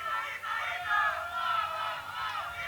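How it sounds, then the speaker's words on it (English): Italian and Slovenian crowds at a junior individual medal match cheer and chant loudly in a large hall, a steady, dense roar of many voices with surging peaks. "the Italians and Slovenians are now having a noise off."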